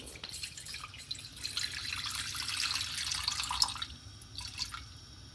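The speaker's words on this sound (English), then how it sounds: "Pour that water in." Water pours and splashes into a pot for a few seconds while making kozhukattai, a bright continuous trickle that tapers off, followed by a few faint drips.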